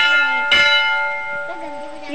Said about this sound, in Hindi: अब ये मंदिर है। इधर बजाएगा घंटी,